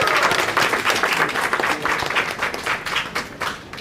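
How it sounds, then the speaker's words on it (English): A crowd gathered on a Philadelphia street at an outdoor rally claps in a steady round of applause, dense and continuous throughout with cheers and shouts rising here and there. "Give yourself a round of applause for being here."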